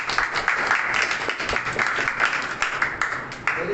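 A crowd at a church meeting bursts into applause, dense and sustained clapping that fills the room for a few seconds without pause.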